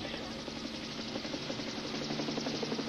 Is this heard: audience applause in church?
no